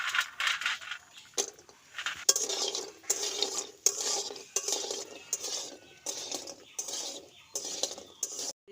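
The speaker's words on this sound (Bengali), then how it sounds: "তেলটা গরম হয়ে গেছে, বড়িগুলো ভেজে নেব।" Bori (lentil dumplings) fry in hot oil while being stirred in a pan, giving rhythmic scraping strokes of the utensil over a light sizzle, repeated steadily throughout.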